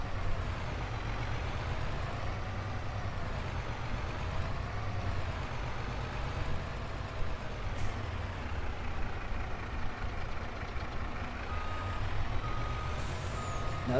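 A truck in the video game Farming Simulator 22 hums with a steady low engine drone, with faint intermittent reversing beeps and a short air-brake hiss, no talking.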